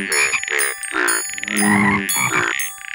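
Cartoon frogs croak in a children's Curious George counting game, a series of bright, musical, voice-like croaks in short bursts, about five or six in quick succession, clean and close with no talking.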